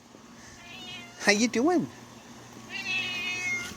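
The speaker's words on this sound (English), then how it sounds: "You are definitely a big husky cat." A big, husky house cat lets out a clear, close meow, with a person speaking to it softly just before and faint background noise throughout.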